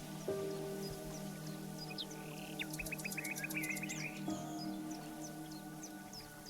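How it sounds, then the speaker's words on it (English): Birds chirp and twitter in the distance, with a quick trilling series in the middle, over a steady low hum and soft ambient noise. "the distant call of birds"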